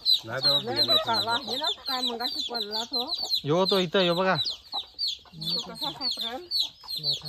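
A native village rooster clucks repeatedly up close in short throaty bursts, with people talking over and between the calls.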